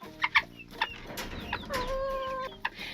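Seabright bantam chickens clucking inside a cage, a few short close clucks followed by a longer drawn-out call, with some rustling between them.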